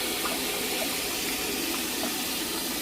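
Steady broadband rush of water pouring into a Red Sea 425xl aquarium tank during a leak test, continuous and fairly even with faint splashy texture, no voices.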